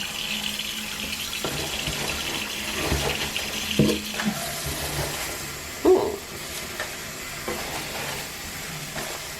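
Water runs from a bathroom sink tap in a soft, continuous stream, with a few louder splashes and knocks partway through and no talk.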